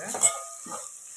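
Ginger-garlic paste being sautéed in a pan for a chicken gravy: two short, soft bursts of sizzling and stirring, close but quiet, with near silence between them.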